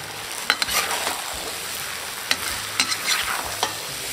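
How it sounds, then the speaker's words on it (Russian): A utensil scrapes and clatters through beef, barberries and chickpeas sizzling in a pot for Uzbek plov, several stirring knocks over a steady frying hiss. "Все хорошо перемешиваем."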